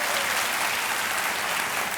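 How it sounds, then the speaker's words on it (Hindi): Loud, continuous applause from a studio audience at a televised quiz show, a dense wash of clapping with no break across the short span. "तालियों के साथ आपका हम स्वागत करते हैं,"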